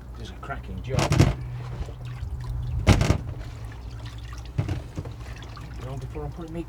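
Cold water splashes and pours in short bursts as carrots are washed outdoors at an allotment, with a few louder gushes over a steady low background.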